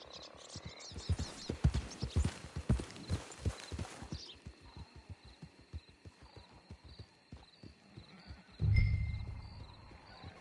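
Horse hooves clip-clop in a steady walking rhythm on a cowboy trail near camp, fairly close, then ease off toward the end as a heavier thud and rustle come in.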